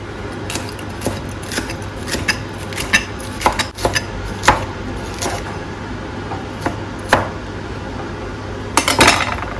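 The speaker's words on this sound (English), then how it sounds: "Stir frying our vegetables" Metal utensil scraping and clinking against a pan while stir frying vegetables, at an irregular pace, with soft sizzling underneath and a sharper clatter near the end.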